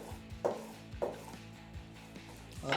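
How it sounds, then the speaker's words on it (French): A knife cuts meat on a board during a timed mystery-box cooking duel, giving a few sharp, close chopping thuds spaced irregularly over a low background hum. "à la découpe de la viande"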